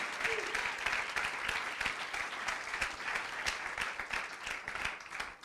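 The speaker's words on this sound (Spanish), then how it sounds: "Dale un fuerte aplauso al Rey." A church congregation applauds in a steady, dense wash of clapping that fills the room and holds at an even level throughout, with a few faint voices mixed in.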